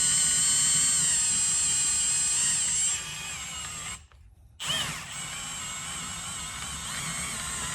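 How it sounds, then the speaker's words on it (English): A variable speed power drill whines loudly and steadily while installing racing seats, pitch shifting as speed changes, briefly cutting out before spinning up again and continuing. "You definitely want a variable speed drill when you're drilling stuff."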